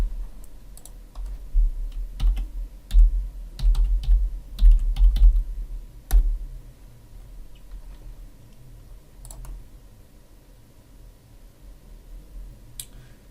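Scattered keyboard key taps over a low background rumble, irregular clicks clustered early and then sparse, moderately close and fairly quiet.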